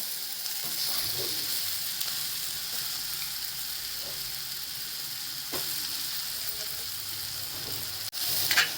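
Cluster bean kheema mixed with thecha sizzles steadily in a pan, a constant frying hiss with occasional soft stirring scrapes, and a brief clatter near the end.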